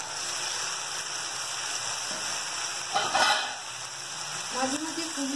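Eggplant and onion greens fry slowly in a little oil under a lid, a continuous even hiss with a brief louder burst of crackle midway.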